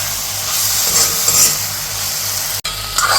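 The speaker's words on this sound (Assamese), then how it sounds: "চাওকচোন কি ধুনীয়াকৈ বিলাহীৰ লগত মানে ভাজিছোঁ, মাংসখিনি কি ধুনীয়াকৈ মিলি গৈছে" Chicken frying in hot oil with tomatoes, a steady loud sizzle and hiss as the meat is stirred, with one brief dropout near the end and no talk.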